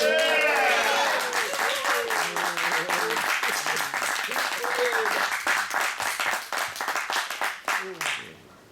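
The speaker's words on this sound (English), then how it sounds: "Applause and a bow." Audience applause at a Civil War era music program follows a sung Lincoln campaign song, starting under the last sustained sung notes and voices, then continuing as dense, close clapping that thins and fades.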